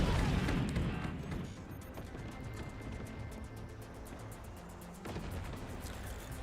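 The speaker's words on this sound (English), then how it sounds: "As I clear the skies with shotguns." Shotguns blasting away in the real-time strategy game Forts, a dense, rumbling barrage that is loudest at the start and then continues as a steady crackle of overlapping shots with no pauses.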